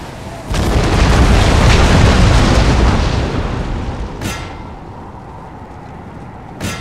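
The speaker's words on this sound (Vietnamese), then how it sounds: "pháo bắn thẳng sẽ bắn sập tường thành rất nhanh" Cannon fire and explosions crash through a siege battle in the Napoleon: Total War video game, a loud sustained rumble of booms that slowly fades, broken by sharp single reports.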